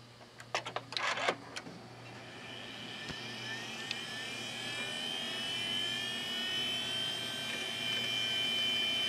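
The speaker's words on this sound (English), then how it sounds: "It's going to be crunching around with its slow old droning hard drive." An old, slow hard drive in a server chatters with a burst of clicking seeks and then settles into a steady whining drone that swells slightly in pitch and loudness, with no voices.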